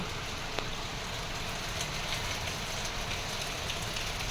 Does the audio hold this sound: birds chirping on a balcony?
no